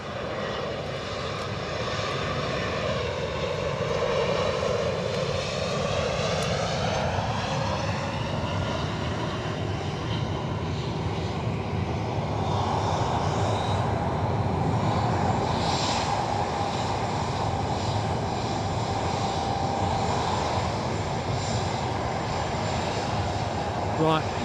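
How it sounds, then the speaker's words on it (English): A Boeing Dreamliner approaching Edinburgh Airport gives a continuous jet roar that grows louder, with a slowly falling pitch sweep as it passes. The broad engine rumble holds for the full twenty-odd seconds. "Right, Dreamliner is virtually here."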